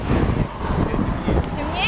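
Outdoors, wind buffets the microphone with a loud, continuous low rumble, and a voice is faintly mixed in.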